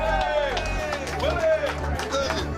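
A crowd cheers and claps for a singer after the song, a steady loud wash of applause and voices with a few higher shouts rising above it.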